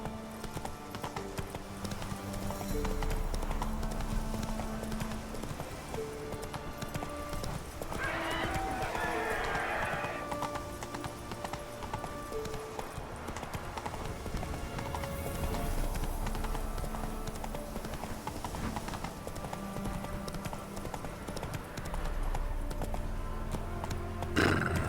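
Hooves of the horse Roach gallop in The Witcher 3 video game, a steady rapid clip-clop carried under game music and ambience, with a brief whinny partway through and a voice speaking over it.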